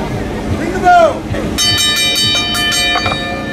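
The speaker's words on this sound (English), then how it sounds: "Ring the bell." A ring bell at a live American Luchacore wrestling show clangs several times with sustained metallic ringing, under crowd noise and an announcer's voice.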